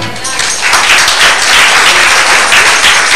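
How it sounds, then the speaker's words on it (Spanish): Applause from a congregation during a church sermon: a loud, continuous rush of many hands clapping together, close and sustained from start to finish. "Dale un aplauso."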